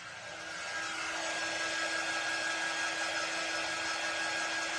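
A clothes dryer used to cure screen-printed ink on a pumpkin cube project runs steadily, a continuous broadband whirring hum that builds in the first half second and then holds level and fairly loud with no talk over it.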